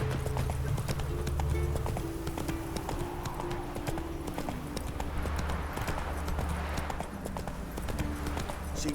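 Horse hooves gallop in The Witcher 3, a fast continuous clip-clop rhythm, loud and close over a steady background rumble.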